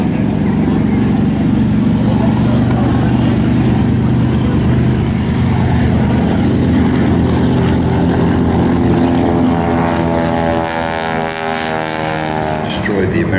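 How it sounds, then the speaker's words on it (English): A Grumman Avenger, the large single-engine WWII torpedo bomber, taking off at an air show, its propeller engine droning loud and steady, then rising in pitch as it climbs, under commentary over a public address system. "Taking off now, the largest single-engine aircraft to come out of the Second World War."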